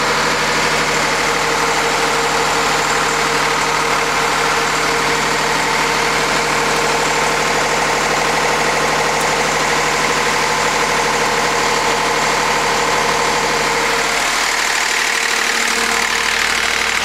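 Engine of a homemade asynchronous generator rig running steadily with a loud, even mechanical drone and knocking hum, then cutting out near the end as the engine stops firing and its sound drops away while still turning.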